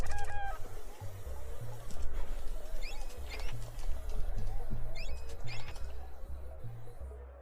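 Chickens cluck and squawk in the Secret of Evermore video game, with bright chirpy calls scattered over a looping low-pitched game music pattern and background noise.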